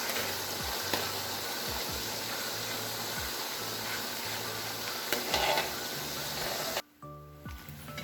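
Raw banana slices fry in hot oil, giving a steady, dense crackling sizzle with a low rhythmic thump underneath that cuts off abruptly near the end, leaving quieter scattered sounds.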